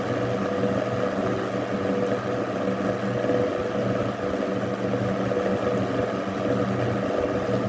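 Vintage Eskimo model 12100 electric fan running on its high setting, giving a loud, steady, close-up whirring drone with a faint rattle and no break throughout.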